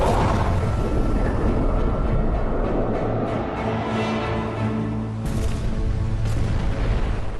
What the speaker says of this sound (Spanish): Lanza un bombardeo de 5 torpedos.